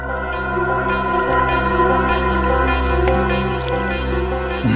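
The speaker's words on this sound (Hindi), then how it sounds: "पानी की आवाज आ रही है सर।" Steady watery sloshing and dripping hum through a muffled, narrowband phone line, continuous and fairly loud with no voices.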